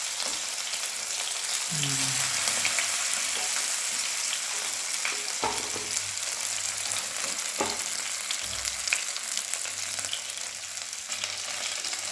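Fish fry in coconut oil with a steady, loud crackling sizzle throughout, punctuated by a few low thumps and clatters from the pan, no speech.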